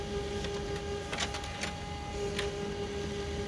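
An HP LaserJet Pro M28a laser printer runs continuously, a steady mechanical whir with faint ticks and clicks, heard close and without talk.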